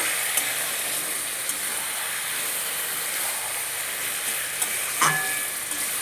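Taro leaves and a hilsa fish head fry in a pan with red chilli, giving a steady, even sizzle and hiss, with a few faint clinks of the stirring spoon and one sharper knock near the end.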